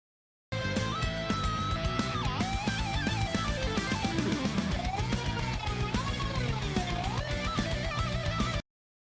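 Dense rock band passage with driving drums and bass and a wavering, sliding synthesizer line through the mix.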